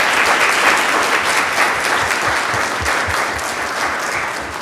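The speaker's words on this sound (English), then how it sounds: "Can we please clap it up for these incredible educators on the side?" Audience in a city council chamber applauding local elementary school educators, a loud, dense burst of clapping that carries on steadily before easing slightly at the end.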